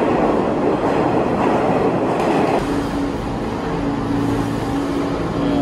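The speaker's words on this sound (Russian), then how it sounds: "Метро шумно." Loud New York subway train rumble with a roaring, rattling drone that shifts in tone partway through, continuous and close, with no talking.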